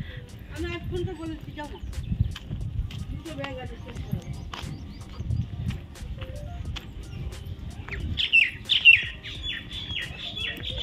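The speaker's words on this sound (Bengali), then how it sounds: "চারিদিকে পাখির কলরব হচ্ছে" Birds chirp in scattered short tweets around a village road heading to Champahati station market, fairly faint beneath nearby footsteps and background activity, with a brief brighter burst of calls near the end.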